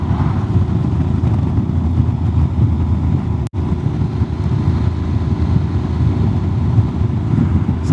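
A Honda X-ADV 750 ridden in sport mode gives a steady, rough engine drone mixed with wind rush while engine braking, broken by one brief dropout midway.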